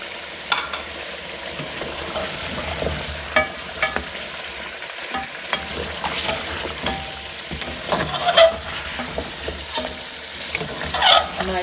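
Beef paya masala with green chili and crushed ginger sizzles and fries in a pot while being stirred, a continuous hiss broken by scraping and clacking of a spoon, close and moderately loud, no voices.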